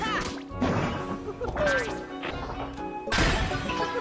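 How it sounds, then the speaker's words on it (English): In the Kingdom Hearts video game, a nut is whacked back at a pot that shatters: three loud, sharp crashing impacts spaced about a second apart, with brief game effects between. "Whack the nut back at the pot to shatter it."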